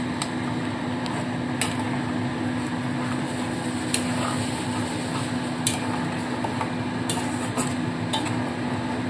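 Mutton korma masala being stirred in a pan, with steady scraping and occasional metallic clinks over a continuous low hum.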